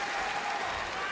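A crowd at an AEW wrestling match cheers and applauds in a short, even wash of clapping and noise, fairly faint, with voices blended in.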